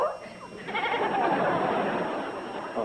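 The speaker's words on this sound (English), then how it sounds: "A goat?" A goat bleats on a rural porch, a wavering cry rising through steady background noise, with a person's voice mixed in.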